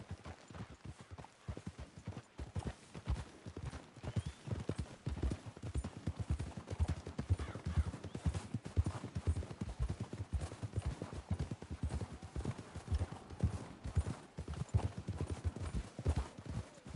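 Steady clip-clop of several horses' hooves walking on hard ground in Red Dead Redemption 2, continuous and fairly close, with no talking.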